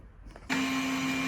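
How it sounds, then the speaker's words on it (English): A hoover switches on abruptly and runs with a loud, steady whine and rushing airflow in a room where plumbing work is underway, holding constant to the end. "The window is open and I've left the hoover on."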